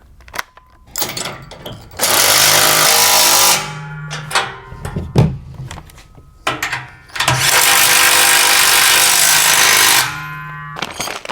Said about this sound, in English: Next, we're going to tighten up the carriage bolts.